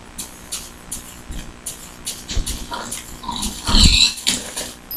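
A pig grunts and oinks in the video game Minecraft on Xbox 360, a few close, loud snorting bursts over steady game background noise.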